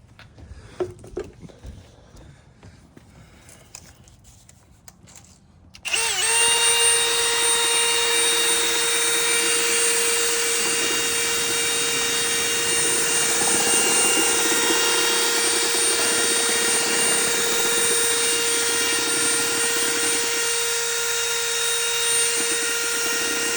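A loud, steady motorized whine starts abruptly after a few seconds of quiet shuffling and keeps running evenly, a power drill spinning continuously while mixing epoxy floor coating.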